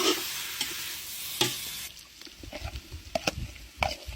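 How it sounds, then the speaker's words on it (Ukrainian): Smoked pork fat (salo) frying in a pan, a steady sizzle with occasional pops and soft scraping stirs, heard close with no voices. "Обсмажуємо наше сало."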